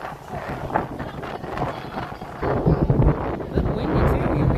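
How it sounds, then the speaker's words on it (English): Gusty wind buffets the microphone outdoors at EPCOT on a festival morning, rough rumbling blasts that swell and grow stronger in the second half, with faint crowd noise around. "A little windy too, we can hear that"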